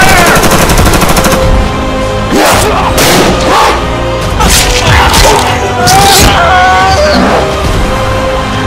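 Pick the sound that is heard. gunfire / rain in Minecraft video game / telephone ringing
gunfire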